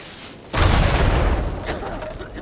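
A sudden loud explosion in the video game Uncharted: Legacy of Thieves Collection booms after a short quiet, then rumbles and fades over a couple of seconds.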